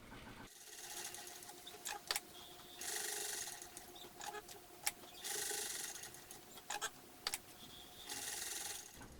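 A sewing machine stitches two fabric panels of a medieval monk costume together at a 3/8 inch seam, running in several bursts of steady mechanical whirring separated by short pauses and clicks, close by and alone.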